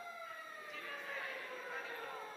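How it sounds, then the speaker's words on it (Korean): A faint, distant siren wails outside a Friday-night church gathering, its rising and falling tone steady beneath low indoor room noise. "울리는 사이렌이 문제가 아니고"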